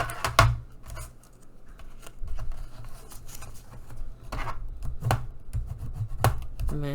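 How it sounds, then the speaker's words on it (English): Scissors burnishing creases into folded paper, a series of close, sharp scraping swipes spaced irregularly with quieter rubbing and handling between them, no voices. "then burnish it with your scissors"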